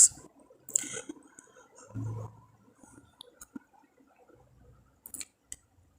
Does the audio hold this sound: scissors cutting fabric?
yes